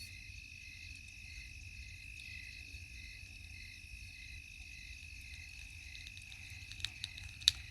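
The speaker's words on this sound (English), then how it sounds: "Do you hear the frogs?" A quiet night chorus of insects or frogs keeps up a steady high trilling drone over a low background hum, faint and continuous, with a few small clicks near the end.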